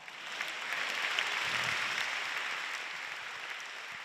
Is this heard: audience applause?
yes